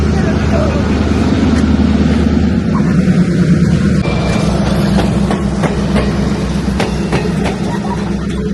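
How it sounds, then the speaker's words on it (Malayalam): A tourist train rolls past in Pennsylvania with a loud, continuous rumble and rail clatter, periodic clicks of wheels over joints sounding close and steady throughout. "ഞാനിതേ അവിടെ ഒരു ട്രെയിൻ ഇങ്ങനെ പോണ കാണണേ"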